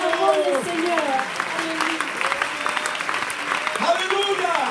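A church congregation applauds the Lord with sustained clapping throughout, while a preacher's voice rises and falls over the top of the applause.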